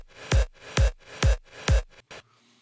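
A synthesized kick drum from the Nimble Kick plugin thumps four times in a steady rhythm, each hit punchy with a short, deep booming tail, followed by a couple of quieter clicks, played alone and close.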